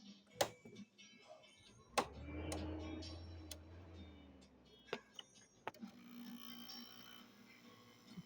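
A 5000 BTU Madea window air conditioner, cleaned and serviced, hums quietly on low cool with a low steady drone, while sharp clicks and ticks from the unit or its controls pop through at intervals.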